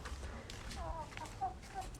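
Backyard chickens clucking nearby: soft, intermittent short clucks and murmurs at low volume over a steady background hum, with some talk audible.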